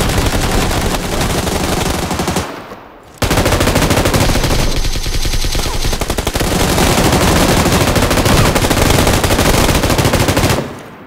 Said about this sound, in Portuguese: Muito tiro. Muito tiro.